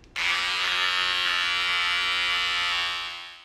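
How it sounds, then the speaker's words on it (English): A Philips Norelco Bodygroom BG2030/60 trimmer motor switches on after a brief pause and runs as a steady, loud, close buzz with strong whine, then tapers off near the end, with no voices. "Motor sounds strong, and it's not shutting off right away."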